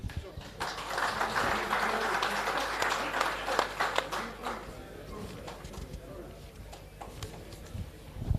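Audience applause fills a hall at a rugby union appreciation awards ceremony for the Blue Bulls women's players. The clapping is steady and moderately loud for several seconds, then thins and fades, with a voice and some background noise mixed in.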